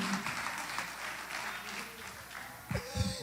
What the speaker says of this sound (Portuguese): Se é para o Senhor, pode aplaudir